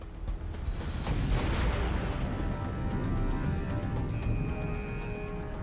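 A thunderous explosion tears through the hull of the guided missile destroyer USS Cole, 505 feet and 8,400 tons, heard as a sustained loud, deep rumbling roar with a burst near the start, continuing alone without speech.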